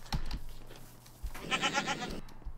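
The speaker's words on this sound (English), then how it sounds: "we have a goat now" A goat in the Minecraft video game bleats in a short burst midway through, loud and close, with brief clicky game sounds before it.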